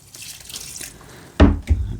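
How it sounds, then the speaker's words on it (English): Water poured from a container into a hardwood and soy pellet mix for growing tan oyster mushrooms, arriving as a sudden close gush followed by a second splashing pour after near silence. "now I'll add about 6 litres of water"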